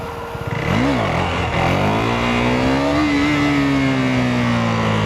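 A KTM Duke 390 motorcycle engine revs hard during a power wheelie, a quick blip of throttle then a loud, sustained climbing rev held at high RPM, close to the listener.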